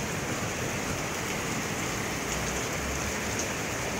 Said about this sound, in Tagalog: Grabe ulan na to.